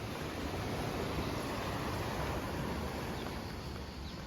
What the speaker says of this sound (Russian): Так, море сегодня волнуется.